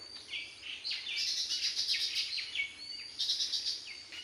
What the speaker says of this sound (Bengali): পাখিদের ডাক, এক অপরূপ সকাল।